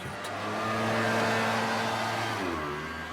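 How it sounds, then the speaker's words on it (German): A noisy engine on a three-wheeled vehicle runs steadily close by, a loud, continuous buzzing drone that rises slightly and then dips in pitch near the end. "Ja, das ist ein sehr schönes Dreirad, muss man es, glaube ich, nennen."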